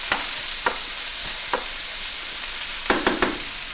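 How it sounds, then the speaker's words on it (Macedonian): Onions for a Macedonian fish-and-onion dish frying in a small amount of oil, a steady soft hiss broken by a few sharp scraping stirs, near and alone. "ќе го запржиме убаво кромидот"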